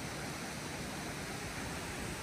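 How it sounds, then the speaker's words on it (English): Waterfalls pour along a bay of blue glacial water near a glacier in Alaska, heard as a steady, dense broadband rush with no breaks and no voices. "And all of these beautiful waterfalls all along the bay."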